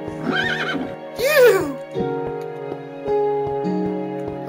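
Minecraft horse neighing: a whinny near the start and a louder, brighter one around the first second, over steady game background music.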